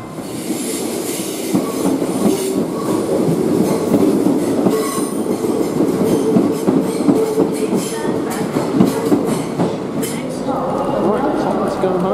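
A train runs on rails from Manchester Piccadilly toward London Euston, giving a loud, continuous rumble with rhythmic clicking and occasional wheel squeal. A voice talks over the running noise.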